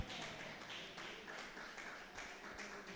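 A church congregation at an evangelism conference claps together in a quick, steady rhythm, many hands blending into a faint, continuous patter heard from a distance.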